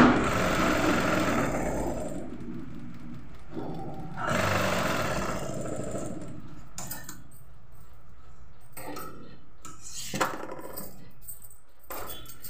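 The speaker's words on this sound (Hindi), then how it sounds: "पहली बार इस मशीन पे सिलाई कर रही हूँ तो थोड़ा धीरे धीरे भी कर रही हूँ" A sewing machine stitches a kurti neck band in slow, uneven bursts of whirring motor and needle clatter, separated by pauses and quieter handling noise.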